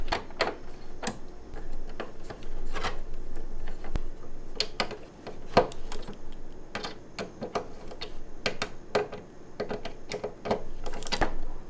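Screws are driven in during a mod install on a Toyota Tacoma, heard as a run of sharp, irregular clicks and ticks close by, scattered unevenly through the whole stretch.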